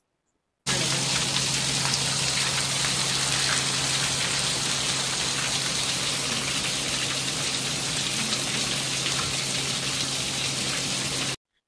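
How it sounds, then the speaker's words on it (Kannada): Heavy rain pours down in Mumbai, a dense, even hiss of drops on surfaces that holds steady for about eleven seconds, with no talking. "ಇವತ್ತಂತೂ ಮುಂಬೈನಲ್ಲಿ ಸಿಕ್ಕಾಪಟ್ಟೆ ಮಳೆ ಇತ್ತು"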